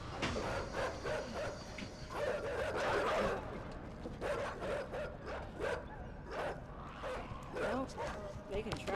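Dogs bark in the side-scrolling video game Inside, a series of sharp yelping calls spread across the clip and partly buried under steady talking and some laughter.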